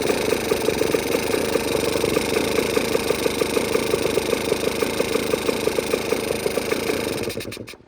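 A Beta two-stroke motorcycle engine runs at a steady idle with a rapid, even popping pulse. It is loud and close, with no talk, and it cuts out near the end.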